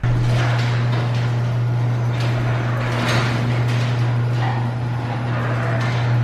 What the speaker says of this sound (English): let me show you what the other garage door sounds like